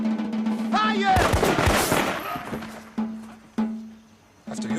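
A firing squad volley in a film scene played to an audience bursts out as a dense crackle of gunfire, followed by several sharp, isolated impacts over a steady low hum.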